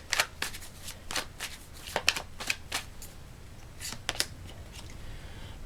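Tarot cards are shuffled and drawn by hand, a series of close, crisp riffling flicks and slaps in uneven bursts over a quiet background.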